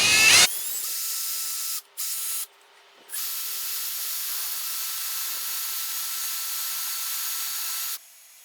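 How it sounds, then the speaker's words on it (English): A power drill bores holes into the steel body of a Nissan Navara D22 for a snorkel, a steady close whine that stops briefly twice before running for several seconds, with no talk. "Now I'm going to drill what I've marked, put a little drill stop on the end of that"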